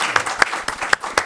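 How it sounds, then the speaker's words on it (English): A council meeting audience in Franklin Township, New Jersey, claps briefly, with a short burst of distinct, close hand claps rising and falling in quick succession. "So let's give a round of applause."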